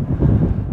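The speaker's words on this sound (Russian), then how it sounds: "Смотрите, как метет ветер." Loud wind buffets the microphone in a low, rumbling roar, gusting steadily over a brief moment, on the seashore at Vityazevo, Anapa.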